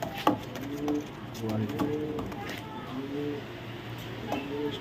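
Pigeons of a racing breed, red checker pied, coo softly and repeatedly at close range, low rounded calls recurring through the stretch over a steady background hum; a person talks at times.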